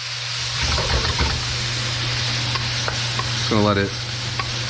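Curry paste stir-frying in a pan for Thai basil pork, a steady bright sizzle with stirring scrapes and a low steady hum beneath, while someone talks briefly over it.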